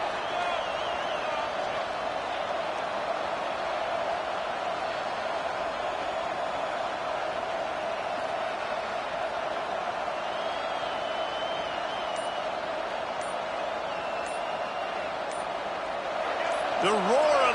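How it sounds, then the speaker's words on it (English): Steady roar of a large stadium crowd at a college football game, AGS against Michigan, a dense sustained wall of noise with no break, swelling slightly near the end. "The roar of the crowd trying to fuel this defense to keep them pinned in their own end."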